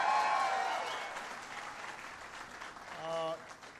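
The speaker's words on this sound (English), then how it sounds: "give Nicole an outstanding round of applause for the great job that she did" Audience applause at a presidential speech in a manufacturing facility in Austin, Texas, fading from moderately loud clapping to quieter scattered claps, with a voice briefly heard near the end.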